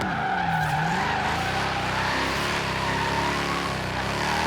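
Mercedes C63 AMG S coupe in Forza Horizon 3 skids through a drift, a loud continuous tire squeal over steady engine drone, rising and falling in pitch for the whole stretch.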